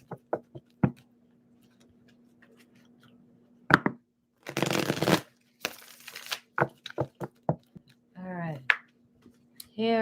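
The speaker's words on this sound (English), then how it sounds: "I didn't shuffle these enough." Tarot cards are shuffled in quick, papery bursts of riffling and slapping, a few sharp clicks and taps between them, close and fairly loud, with brief voice sounds near the end.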